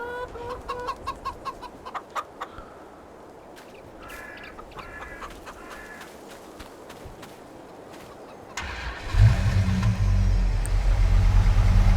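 Chickens cluck in a farm setting in the Farming Simulator 22 game, a run of short close clucks and calls at first, then a loud low engine-like rumble swells in near the end.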